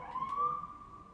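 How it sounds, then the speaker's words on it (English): A siren wails steadily in the distance, a sustained rising and falling tone with faint background noise and no talking. "Sirens."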